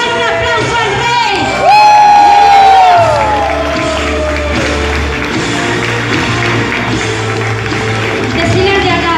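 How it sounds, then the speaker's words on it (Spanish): A church congregation bursts into loud cheering, whoops and shouts over applause, a dense roar of many voices with music beneath, sustained across the whole span. "Y dan un aplauso al Rey"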